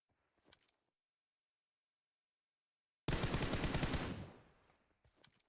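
A sustained burst of rapid automatic gunfire from a first-person shooter game in an esports scrimmage, loud and close, lasting about a second and trailing off, with faint single shots before and after.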